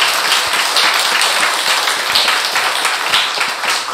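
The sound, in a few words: church congregation applauding in welcome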